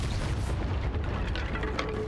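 A fiery Incendio spell cast in the video game Hogwarts Legacy on Xbox Series S roars as a dense, booming burst of flame, loud and sustained for about two seconds with a heavy low rumble throughout.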